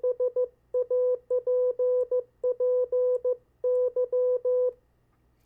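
Morse code CW practice tones at a single steady pitch spell out a five-letter word in crisp dots and dashes, grouped by letter with short gaps, clean and alone against a faint background hum.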